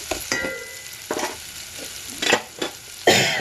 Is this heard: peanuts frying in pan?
yes